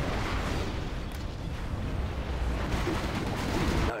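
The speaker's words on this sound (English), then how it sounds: "Our Scud Storm has been launched." A Scud Storm missile strike in Command & Conquer Generals Zero Hour, played as China in a skirmish, gives a dense, sustained rumble of explosions that keeps the same heavy level throughout, with no voices.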